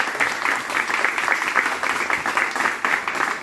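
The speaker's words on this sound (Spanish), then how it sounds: "un aplauso para ellos" An audience at a Teletón gathering breaks into brisk applause, a dense pulsing patter of hands clapping close by for a few seconds.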